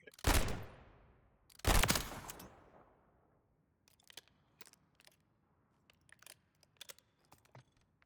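Two loud, sharp Tyr revolver shots crack out close together in a video game, each with a decaying tail, followed by a scatter of fainter clicks and small impacts.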